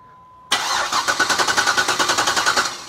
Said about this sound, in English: did you hear how that engine revved, how it spun?